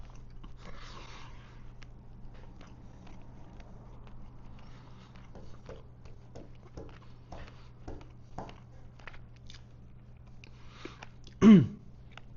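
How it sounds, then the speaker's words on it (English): Someone chewing and biting into food while eating during a live stream, with soft, close, irregular chewing clicks and a quieter stretch of low background hum. "With these live videos, we can't cut the chewing out."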